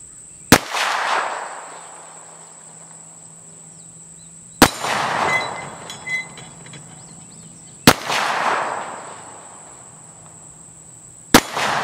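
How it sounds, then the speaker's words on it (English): Four sharp, loud CZ P-07 pistol shots ring out at a steel-plate range, spaced a few seconds apart, each cracking hard and then fading, with a faint steady high insect-like tone in the background. "We're gonna shoot at the steel plates."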